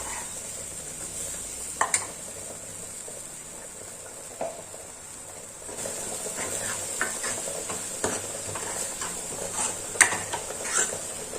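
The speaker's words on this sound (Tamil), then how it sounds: "இதை நல்லா இந்த ஆயிலே ஒரு 6 மினிட்ஸ் நம்ம சுண்டை வதக்கி எடுக்கணும்" Chillies, ginger and garlic frying and sizzling in oil, with a steady soft crackle and occasional clinks and stirring scrapes of a spoon against the pan, close and moderately quiet, no talking.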